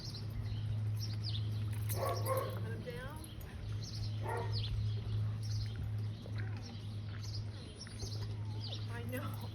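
A dog barks in several short bursts spread across the scene, mid-distance, mixed with bird chirps and a steady low hum, with people's voices faintly in the background.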